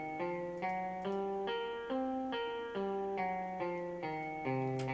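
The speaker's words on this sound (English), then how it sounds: "If you want to get a little more funky with it, there is a blues variant." A blues pentatonic scale played note by note on a software instrument in a DAW, a steady sequence of clean sustained tones stepping through the scale, each note clearly separated, with no talking.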